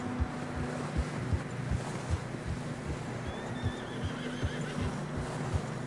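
In Red Dead Redemption 2, horses trudge through fresh snow with steady, evenly spaced hoof thuds while a horse neighs softly in a thin whinny partway through, all over low wind.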